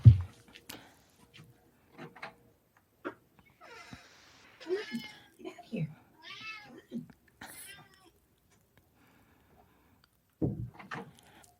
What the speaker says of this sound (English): We totally got your cat meowing.